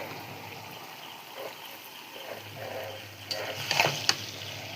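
Goat meat bhutuwa stir-fried in a pan, a soft continuous sizzle with scattered scraping stirs that grow louder and busier toward the end.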